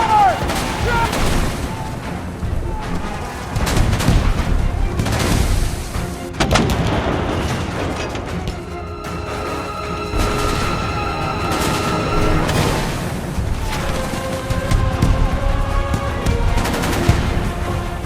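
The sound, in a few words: battle gunfire volley at Shiloh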